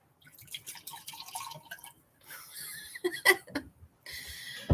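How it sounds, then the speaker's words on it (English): Water trickles and drips into a glass of Jim Beam whiskey in short, close, intermittent spurts, with brief quiet gaps and a hint of laughter nearby. "Whiskey and water."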